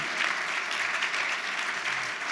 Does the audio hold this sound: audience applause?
yes